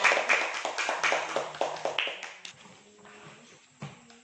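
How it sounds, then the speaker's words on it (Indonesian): Schoolchildren in a primary classroom clap for classmates who came to the front, rhythmic clustered claps that fade out after a couple of seconds, followed by quieter room sounds and a brief voice. "Sekarang Ibu minta tepuk tangannya untuk semuanya yang sudah maju ke depan."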